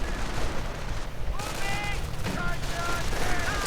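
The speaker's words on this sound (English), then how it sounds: "And Sanity, another strafing run." Video game strafing run: dense, continuous gunfire and booming impacts fill the battlefield, loud and steady throughout, with faint voices mixed into the din.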